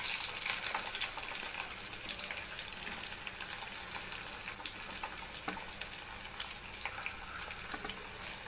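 Chopped onion tipped into hot oil with tempering spices in a kadai for ivy gourd curry, giving a steady, fairly soft sizzle with faint crackles throughout and no talking.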